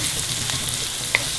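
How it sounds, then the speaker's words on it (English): Onions for salmon pasta fry in a pan with a steady, close sizzle that holds evenly through the short clip, with one small pop near the end. "now you let the onions fry till they get translucent"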